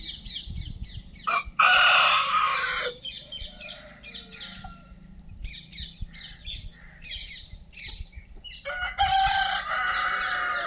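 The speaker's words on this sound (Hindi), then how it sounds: "ये जो बोल रहा है वो रॉक स्टार है, ये काले वाला असील मुर्गा है, प्योर असील" A black pure Aseel rooster crows loudly and close, one long crow early on and another near the end, with softer clucks and squawks from nearby poultry in between.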